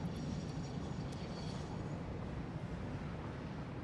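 A train rolls along in a factory-building video game, a steady low rumble with faint, even mechanical noise and no voices.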